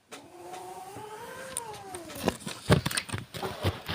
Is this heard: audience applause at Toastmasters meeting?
no